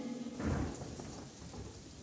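Soft rain falls steadily with a low thunder rumble swelling early and fading, all at a quiet level with no voices.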